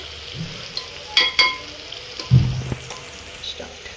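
Soya chunks frying in oil for a vegetarian potol dolma, a soft, steady sizzle under a few spoon clinks and one louder stirring scrape, with no talking.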